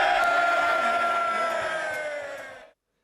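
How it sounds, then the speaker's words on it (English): Members of the House of Commons cheer and boo in a steady, loud roar of many voices that holds for a few seconds before cutting off abruptly. "the cheering and the booing and the clapping goes on for quite a while"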